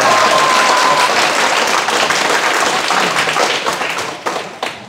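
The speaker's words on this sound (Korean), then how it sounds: "박수로 치려면 확실히 치든지 뭐." A crowd applauds loudly and steadily, the clapping thinning out toward the end into a few scattered claps.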